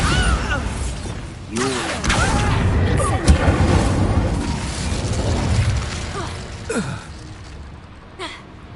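Bombarda spell blast in Hogwarts Legacy, a heavy boom with crackling debris and magical whooshes, followed by falling and sweeping effects and scattered smaller bursts, with voices briefly mixed in.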